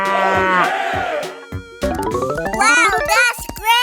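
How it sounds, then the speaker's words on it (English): A cartoon cow in a 3D animal slide game lets out a loud, drawn-out moo, followed by a rising, stretched second moo with bright harmonics, all close and clear with no talk over it. "Whoa! Cow."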